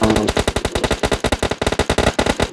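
Rapid automatic gunfire from the Free Fire mobile battle game during a scrim match: dense bursts of loud, crisp shots in fast rhythm, nearly continuous for a couple of seconds, with no voices.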